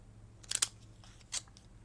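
Decorative-edge craft scissors snip through a book page while making Christmas tags: a quick pair of crisp cuts near the start, then another short snip, close and fairly quiet against a low background hum.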